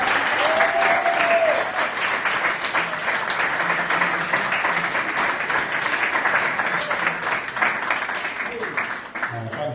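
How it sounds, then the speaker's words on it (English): A round of applause from an audience during an interview, sustained and fairly loud, gradually tapering near the end, with voices speaking over the clapping. "Can I have a round of applause?"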